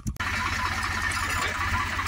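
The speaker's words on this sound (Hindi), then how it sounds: "अरे ट्रैक्टर आ गया, वो आ गया।" A tractor engine idling nearby on a rural road, a steady low rhythmic chug with a brief louder knock at the start, continuing evenly throughout.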